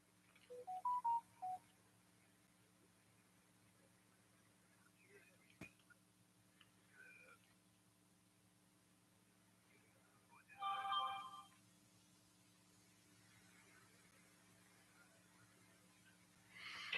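A telephone gives short electronic beeping tones at the start and again later in a ham radio shack, faint and brief over a steady electrical hum, with a low voice murmuring nearby.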